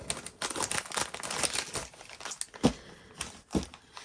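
A scratch tool rasps across a scratch-off card in bursts of close crinkly scraping, followed by two brief, sharper scratches after a pause.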